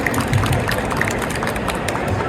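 An audience claps steadily and densely after a presentation at the launch of ParaLog, a paramedic's logbook, at an Emergency Services event; the applause is continuous and fairly loud throughout.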